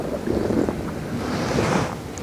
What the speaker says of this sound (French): Le vent il souffle de plus en plus fort